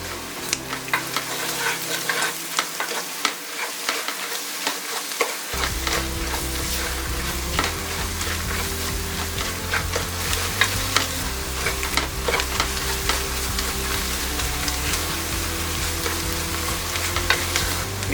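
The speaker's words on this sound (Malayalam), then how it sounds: "നന്നായി വഴറ്റി കൊടുത്തുകൊണ്ടേയിരിക്കുക." Mutton biryani masala sautéed and stirred in a pan, a steady loud sizzle of frying with scraping stir strokes running throughout, intensifying after the first few seconds as heat or ingredients build.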